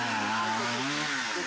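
Chainsaw cutting through storm-fallen trees in a village, a close, loud buzzing whine that rises and dips in pitch as it bites into the wood, with no one talking.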